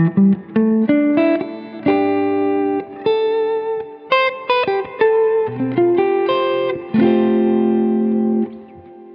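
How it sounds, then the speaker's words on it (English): An electric guitar plays a series of sustained notes through a Strymon BigSky MX impulse reverb set to a softer attack, each note swelling gently into a smooth, lingering wash of reverb, loud and close with no talking. "It's a much softer reverb now."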